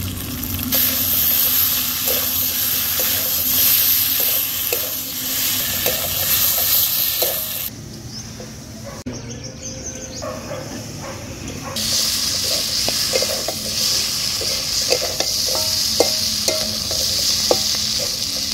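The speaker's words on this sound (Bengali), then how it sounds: "সমস্ত মশলা, আলু, কড়াইশুঁটি কিন্তু কষানো কমপ্লিট হয়ে গেছে" New potatoes, shelled peas and spices stir-fried in a pan give a continuous close sizzle with frequent spatula scrapes and knocks. The sizzle drops to a quieter stretch midway, then returns at full strength.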